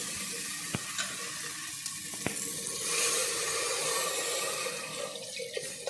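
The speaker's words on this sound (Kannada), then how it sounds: "ಈಗ ನೀರು ಸೇರಿಸ್ಕೊಳ್ತೀನಿ." Water poured into chicken pieces frying in masala in a pot, a steady hiss and sizzle with running-water wash throughout, close and fairly loud, with a couple of sharp clicks.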